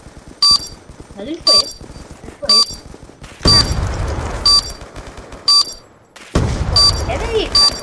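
Revolver shots ring out in a Roblox team shooting game, sharp repeated bursts in quick clusters separated by short pauses, with a voice talking between and over the gunfire.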